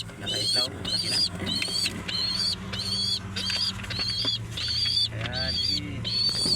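Pigeons in a coop give a steady series of high, repeated bird calls about twice a second, fairly close and loud over a low background hum.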